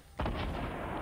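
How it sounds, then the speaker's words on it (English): One sudden, heavy gunshot boom comes from another player in the video game Fortnite, followed by a sustained rumbling tail. "Who's that shooting?"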